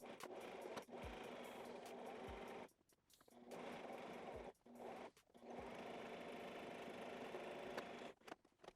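A sewing machine stitches a face mask into a hoodie, running in steady whirring bursts broken by brief stops and restarts, close and fairly loud.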